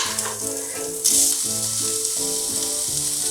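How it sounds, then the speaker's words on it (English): Canned crab meat fries in olive oil, a steady bright sizzle broken by soft stirring knocks and a sudden louder hiss partway through. "I'm going to cook the crab with nothing but olive oil."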